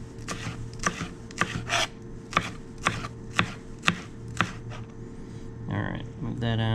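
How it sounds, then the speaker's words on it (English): A knife chops green onions into small pieces on a board with a quick series of sharp, evenly spaced cuts, then a short clatter, all under a steady background hum. "you want to cut these just to small pieces"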